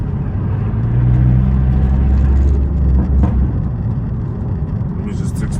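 A Mercedes-Benz A250 with a stage 1 tune drives along, its steady engine and road rumble continuous and close throughout, swelling slightly in the middle as the car pulls.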